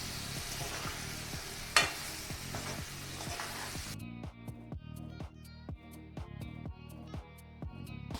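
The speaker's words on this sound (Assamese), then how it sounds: "গোটেইখিনি চব্জি দি দিম মই। গোটেইখিনি ভালদৰে মিক্স কৰি ল'ম।" Chopped mixed vegetables, potato and cauliflower, sizzle hard as they fry in a pan. A spoon stirs them with a steady rhythm of scraping strokes that stand out clearly once the loud sizzle quiets.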